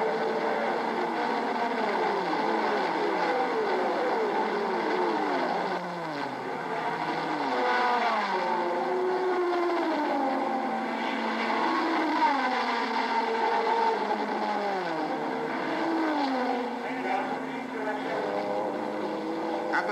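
Pack of Group C prototype race cars, including a Porsche, launching from the start of the 1986 Le Mans 24 Hours, engines roaring loud and continuous with rising and falling pitches as several cars accelerate in close formation, blended with a steady crowd wash.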